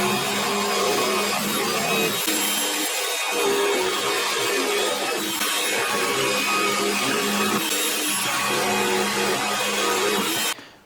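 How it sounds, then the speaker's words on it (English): A router cuts into wood for a headless Telecaster guitar body, loud and close, a steady whining grind with a few short dips in pitch and load before cutting off abruptly at the end. "Over to the router."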